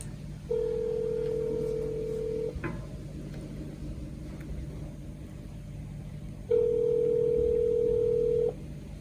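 An outgoing phone call rings out to another person: two long, even electronic tone bursts separated by a pause, over a low background hum, with no talking.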